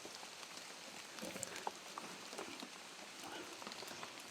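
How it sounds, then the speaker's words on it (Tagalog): Steady rain patters in a dense, even hiss outdoors, with faint scattered drop ticks and no voices over it. "kasi naabutan na tayo ng ulan"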